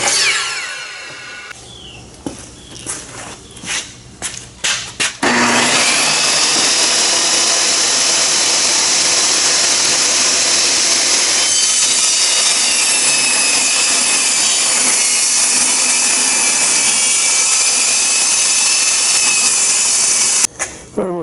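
A power saw rips through a wood decking board on a gooseneck trailer deck, a loud, steady, continuous cut lasting many seconds after a few brief starts, close up with no talking.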